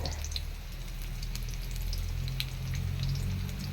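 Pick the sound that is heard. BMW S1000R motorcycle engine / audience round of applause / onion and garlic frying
onion and garlic frying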